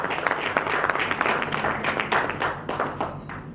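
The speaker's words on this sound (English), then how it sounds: "Can we all have a big round of applause, please?" Dense crowd applause fills a company gala hall, a steady wash of many hands clapping with sharp bursts standing out, sustained and fairly close throughout.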